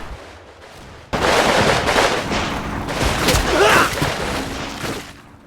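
Rifle and machine-gun fire from soldiers in the Combat Mission war game crackles in dense, overlapping bursts, loud and continuous after a quiet start, then tapering off near the end.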